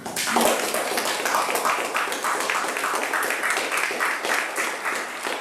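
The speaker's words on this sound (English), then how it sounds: "Let's give her an applause." A room full of people gives sustained applause at a memoir book presentation. The dense, steady clapping lasts several seconds at an even loudness, with no voices standing out.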